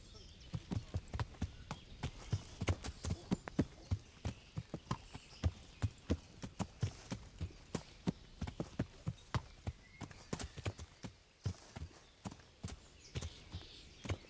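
Horse hooves clip-clop steadily in the medieval game Kingdom Come: Deliverance, a brisk walking rhythm of distinct close strikes repeating throughout, with occasional faint voices underneath.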